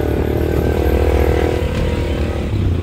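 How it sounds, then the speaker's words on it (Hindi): A motorcycle engine runs in first gear with a steady, loud, buzzing drone and a rattling mechanical edge throughout the ride. "पहले गियर पे है मोटरसाइकिल"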